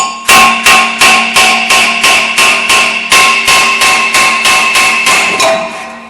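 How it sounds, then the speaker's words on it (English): Sharp metallic hammer strikes knock a front brake rotor off a 2012-2016 Audi Q5, about fifteen loud, evenly spaced ringing blows close by, each decaying quickly before the next. "just tap it, just watch it don't damage the face of it, and you can get it off fairly easy"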